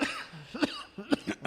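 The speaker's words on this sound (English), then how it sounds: "you just coughed in the mic right there" A person coughs into a close microphone during a podcast-style conversation, giving a few sharp, separate coughs.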